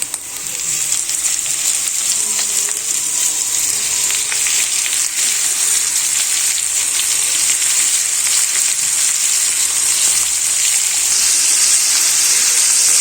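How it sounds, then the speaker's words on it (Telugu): Chicken tossed onto golden brown onions frying in a pan for a Telugu-style chicken fry, giving a loud, steady, continuous sizzle with faint stirring and no voices. "ఆనియన్స్ ఇలా కలర్ చేంజ్ అయ్యాక మనము పెట్టుకున్న చికెన్ వేసేసుకోవాలండి"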